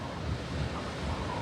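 Ocean surf washes steadily along the Oregon coast south of Newport, a continuous broadband roar buffeted by wind rumbling across the microphone, with no voices.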